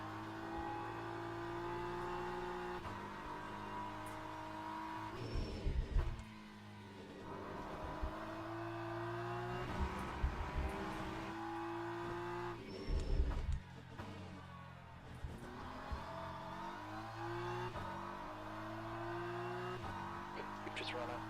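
BMW race car in Le Mans Ultimate racing sim, its engine droning steadily with a low tone and periodic rises and dips as it shifts and brakes through corners, moderately quiet beneath someone talking.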